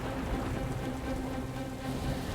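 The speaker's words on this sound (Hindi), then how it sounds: "बहुत बारिश हो रही है।" Heavy rain pours down steadily as a dense, even hiss with no breaks, a constant wash over a low hum, with no voices.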